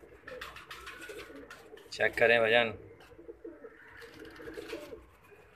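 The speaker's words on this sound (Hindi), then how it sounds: "इसको बोलते हैं इंडियन कबूतर।" An Indian pigeon coos once, a short, loud, warbling call in the middle, with someone speaking Hindi before and after and light bird chatter behind.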